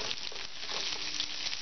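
Small diced onion frying gently in melted butter over low heat, a soft, steady sizzle with faint patter, quiet and close with no speech.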